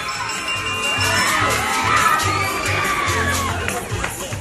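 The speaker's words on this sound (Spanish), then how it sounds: "Un fuerte aplauso." Schoolchildren shout and cheer as a crowd at a Día del Indio school celebration in Honduras, a loud, continuous roar of young voices with whoops rising and falling throughout.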